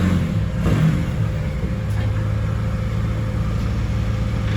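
A Mercedes 2.0 CDI car engine runs on a dyno, a steady, loud, low engine drone that holds throughout with a slight rise near the start, no voices.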